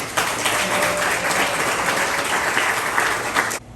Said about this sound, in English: I'd ask for a round of applause for Nathaniel